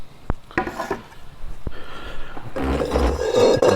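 A utensil scrapes homemade butter from raw milk out of a container, making several sharp knocks and rubbing scrapes. It ends in a louder, sustained scraping rasp, close by with no talking.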